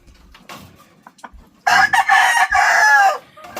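A rooster kept among breeding chickens gives a few soft clucks, then a loud, close crow that breaks briefly and carries on, alone with no talking.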